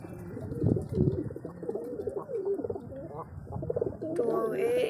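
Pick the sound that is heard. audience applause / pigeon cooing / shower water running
pigeon cooing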